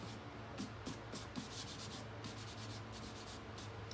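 Quiet, steady strokes of sandpaper on a block rubbing back and forth across the sides of a wooden bread box, a soft rhythmic scratching close by.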